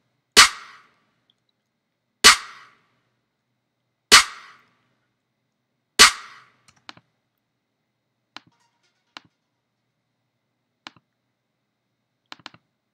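Four sharp, evenly spaced claps from a trap beat clap sample ring out with short decaying tails, followed by scattered faint clicks.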